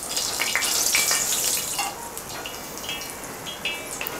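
Mutton fat sizzling and frying in hot oil as it renders for chapli kabab; a steady hiss of bubbling grease with light scraping and stirring, close and fairly loud, no talk.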